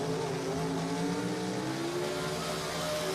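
Chevrolet-powered gasser drag cars at Lassiter Mountain Dragway give a continuous loud engine roar with rising revving tones, heard from a distance over a busy outdoor racetrack.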